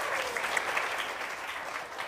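A group claps in steady, dense applause that runs evenly through the whole stretch with no voices over it.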